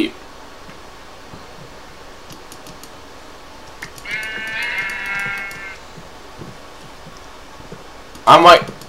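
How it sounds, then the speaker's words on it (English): Sheep bleating in the Minecraft video game, a short burst of bleats near the end following a softer rustling stretch, heard over quiet background with a voice talking. "Oh, sheep!"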